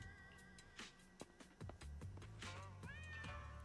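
Mischievous orange cat meowing in a video game, a few short meows over game music and ambient sound, fairly faint.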